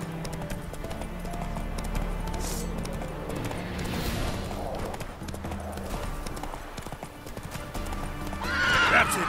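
Roach, a horse in The Witcher 3, trots with steady clip-clop hoofbeats close by, a whinny rising near the end over a faint ambient game background.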